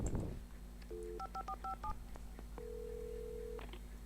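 A quick series of electronic phone dialing tones from the video game Alan Wake, several short beeps in a row followed by one longer steady tone, over a low background hum.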